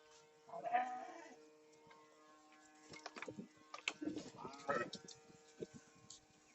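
A Narisuvarna ewe, older and toothless, stands near her two young male lambs and gives a nearby bleat early on, followed by scattered rustling and knocking farmyard sounds.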